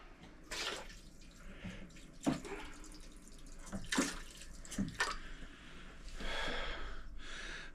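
A newly installed kitchen mixer tap runs water into a Belfast sink in uneven splashing bursts, with gurgles and pauses as the flow changes, fairly close and fairly quiet.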